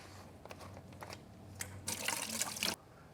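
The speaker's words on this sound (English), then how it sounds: "Now we can add the antifreeze to the bucket." Antifreeze pours into a bucket as a bright liquid splash that runs for about a second, rising clearly above quiet room background after a few faint knocks.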